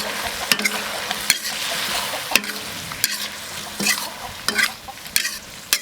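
Green chilies and Sichuan lovage stalks are stir-fried in a hot wok, with a steady sizzle broken by repeated sharp scraping clanks of the spatula at an irregular rhythm, close up and without speech.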